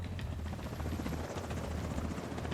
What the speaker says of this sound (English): The chopper's gonna be right here.